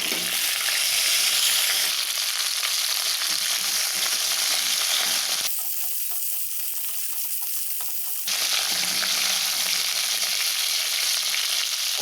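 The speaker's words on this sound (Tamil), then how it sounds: "கோவைக்காயை எண்ணெயில் நல்லா வதக்கியாச்சு." Boiled ivy gourd sautés in hot oil with mustard seeds, cumin and curry leaves, giving a steady, loud sizzle and crackle that dips briefly midway, then returns at full strength, with no talking.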